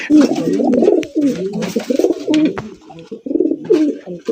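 A male racer pigeon calls loudly and almost without pause inside a cage, close by, with repeated rolling coos in rapid bursts.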